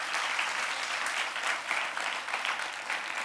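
A crowd at an event applauds in a continuous, even wash of clapping heard from some distance, with no speech over it.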